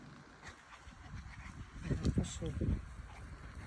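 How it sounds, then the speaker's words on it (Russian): A small dog whimpers and yips softly at close range, the faint whines rising in the middle, while a person speaks quietly nearby. "Что-то пристает к тебе собачка, да?"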